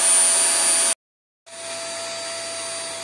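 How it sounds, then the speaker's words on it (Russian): A household vacuum cleaner runs with a loud, steady whine. It cuts out for about half a second, then resumes slightly quieter and holds its even drone. "Это пылесос."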